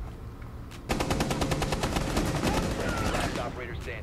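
Rapid automatic gunfire in Rainbow Six Siege: after a brief quiet moment, a sustained burst of around twenty evenly spaced, loud shots rattles off for roughly three seconds before trailing away.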